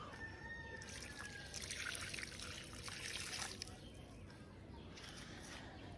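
Water poured onto plants in a rooftop garden, a steady trickling and splashing hiss lasting several seconds, fairly faint, with occasional bird chirps in the background.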